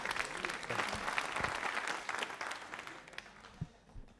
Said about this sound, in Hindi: लो तालियां बजाओ